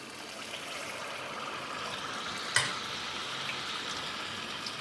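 Food frying in hot oil and puffing up gives a steady close sizzle throughout, with one sharper crackle burst partway through and no talking.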